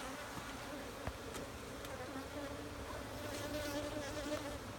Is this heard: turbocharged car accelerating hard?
no